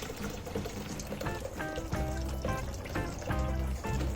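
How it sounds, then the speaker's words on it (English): Boiling water poured straight from a kettle into a zinc electroplating tank makes a continuous splashing gush that rises into gurgling, bubbly glugs as the tank fills, close and steady with no voices. "This is just boiling water, straight out the kettle."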